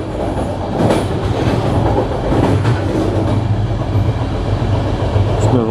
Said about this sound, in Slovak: Sme v osobnom vlaku